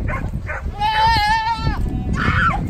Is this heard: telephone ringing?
no